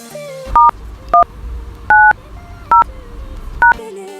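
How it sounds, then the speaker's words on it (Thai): Phone keypad tones for dialing a USSD code on a True mobile line, five crisp dual-pitch beeps at uneven intervals, loud and close over a low background hum. "ยกเลิกแพ็กเกจเสริมอัตโนมัติที่มีทั้งหมดกดดอกจัน 190สี่เหลี่ยมกดโทรออกครับ"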